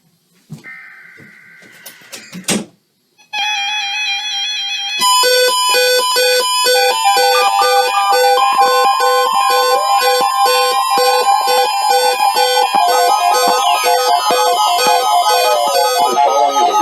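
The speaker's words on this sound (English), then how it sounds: "This is a test of the no-weather radio warning alarm device, an emergency alert system." Emergency alert system weekly test on weather radio: a short burst of data-like screeches, a brief pause, then a loud, steady, piercing warning tone that continues unbroken to the end.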